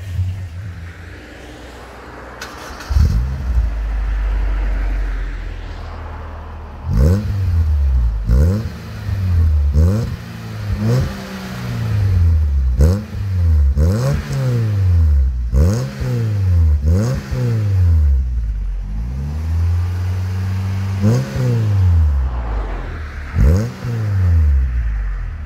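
A Suzuki Jimny with a MIG-welded 409 stainless steel full exhaust and Hurricane extractors idles, then is blipped through a long series of sharp revs that rise and fall in quick succession, loud and close.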